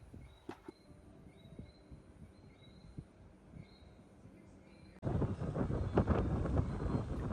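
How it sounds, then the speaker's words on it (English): Wind gusting across an outdoor courtyard at night at Sam Lord's Castle Resort, a steady rushing noise that becomes suddenly louder and rougher halfway through, as if buffeting the microphone. "You can tell it was a bit windy,"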